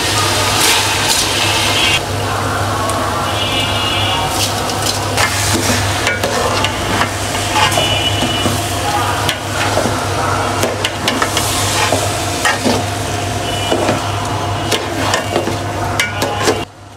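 Shahi cumin seeds fry in plenty of hot oil for Sylheti white khichuri, with a constant loud sizzle and scraping, clattering stirring strokes running throughout.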